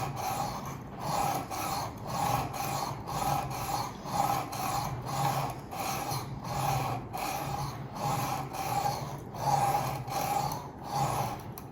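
A knife blade drawn against a sharpening stone on a Work Sharp Precision Adjust, giving a steady series of close, rhythmic rasping strokes, roughly one per second, with no talking.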